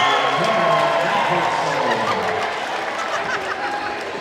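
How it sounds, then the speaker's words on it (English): A packed gym crowd roars after a slam dunk at a Summit vs Redmond high school boys basketball game, a loud, dense wash of cheering and shouting voices that holds steady for several seconds and eases slightly toward the end. "as the crowd is loving that one."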